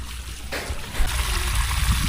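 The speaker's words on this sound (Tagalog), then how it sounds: "Lakas na tubig dun, oh." A river runs strong with a loud, steady rush of flowing water that grows heavier partway through, splashing near at hand.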